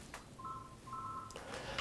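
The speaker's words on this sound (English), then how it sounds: "So that'll be the phone." A telephone rings indoors during a quiet interview, sounding two short bursts of its tone against a soft background hiss.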